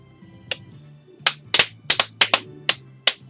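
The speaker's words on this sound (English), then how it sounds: "I can make a clapping sound with the back of my hand" A person makes sharp clapping sounds with the back of a hand: eight crisp, close slaps, one alone then a quicker irregular burst, over a faint low background hum.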